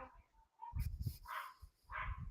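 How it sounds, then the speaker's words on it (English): A dog barks and yips in short bursts nearby while a podcast is recorded, several sharp barks at a moderate distance, with no talk over them. "And now you just annoyed the dog."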